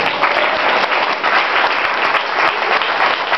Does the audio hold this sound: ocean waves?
no